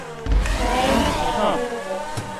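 Car engine revving up hard in Grand Theft Auto V, a steady loud rising drone with pitch sweeps, close and continuous with a brief thump near the end.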